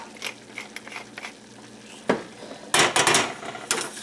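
Pepper being ground with a pepper mill while cooking: a few scattered faint clicks, then a short burst of rough, crunchy grinding turns near the end.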